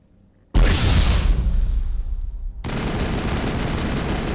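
A grenade goes off in Mass Effect 1: a sudden loud blast with a roaring, crackling tail that fades, then steady loud rumbling continues to the end.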